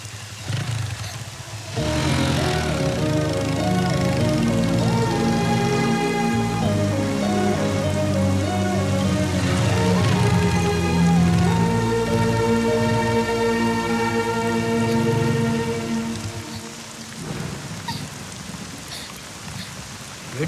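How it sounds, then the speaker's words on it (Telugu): Rain falls steadily as a soft hiss beneath loud, sustained orchestral film music in a movie scene, fading in the final seconds with no voices. "వర్షం పడుతుంది"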